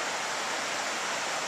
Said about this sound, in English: This is the little river, or Little Pigeon River rather.